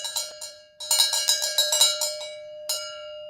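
A handheld cowbell struck repeatedly, near and loud: a few opening hits, a steady run of about eight ringing strikes, and one final clang, each with a bright metallic ring.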